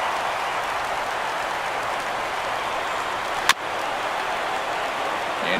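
A baseball stadium crowd of about 35,000 roars on its feet in a steady, dense wash of cheering and applause during a perfect game for pitcher James Paxton, with one sharp crack partway through.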